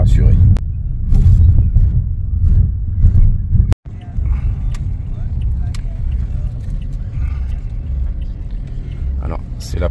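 A Toyota Yaris driven on roads around Bangkok, heard from inside the cabin. A steady low engine and road rumble continues with a brief dropout, while voices are heard in the car.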